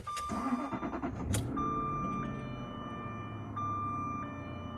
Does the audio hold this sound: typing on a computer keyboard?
no